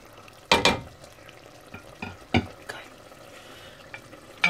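A mixture of cow's milk and coconut powder hits a hot pan while a prawn and drumstick curry cooks. Several short, close sizzling bursts sound amid stirring, with quiet frying between them.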